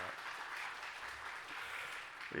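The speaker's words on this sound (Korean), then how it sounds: "함께 또 주님을 섬김에 기쁨과 즐거움이 있도록 우리 박수로 환영하겠습니다." A church congregation at a Sunday morning service claps in welcome, a dense, steady round of applause from many hands that carries on throughout.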